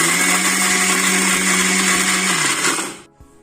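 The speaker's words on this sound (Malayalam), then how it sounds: "അപ്പോൾ ഇത് നമുക്ക് മിക്സിയിലിട്ട് നല്ലോണം ഒന്ന് പൊടിച്ചെടുക്കാം" Mixer grinder powdering biscuits with sugar for homemade ice cream, its motor whirring at a loud, steady pitch for about three seconds before the blades spin down and stop abruptly.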